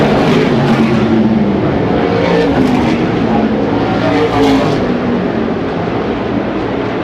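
SMART Modified race cars roar around Carteret County Speedway, a loud continuous engine drone with cars swelling and fading as they pass, under announcer commentary.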